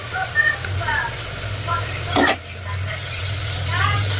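Pork frying in its own rendered fat with a little oil in a pan, giving a soft steady sizzle close by, with stirring scrapes and a voice talking over it.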